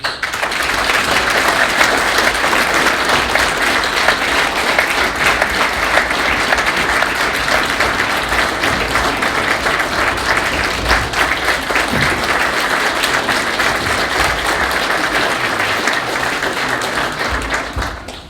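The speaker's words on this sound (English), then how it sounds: "If we can just all join me and give them a round of applause, please." A school board meeting audience gives a long, steady round of applause, dense clapping filling the room at an even level from start to finish with no voices standing out.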